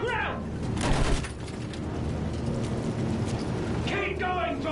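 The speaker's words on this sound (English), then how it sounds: "Use the MG! Sweep the ground!" Machine gun fire sweeps across the ground in the World War I shooter Battlefield 1, a dense, sustained rattle of rounds mixed with battlefield noise, with voices talking over the shooting throughout.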